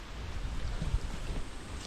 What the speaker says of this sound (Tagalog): Mahanging umaga, mga kautol. Ayun, paspas talaga. Medyo mataas lang ang hangin.